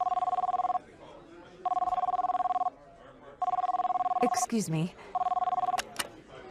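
A cell phone rings in a restaurant, its electronic tone sounding in four repeated bursts with pauses between, and a person speaks briefly in the gap.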